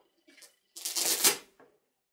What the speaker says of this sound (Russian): Конверт на липучке.